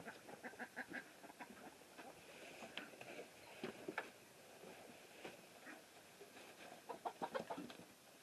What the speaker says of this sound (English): We got chickens trying to get into the shed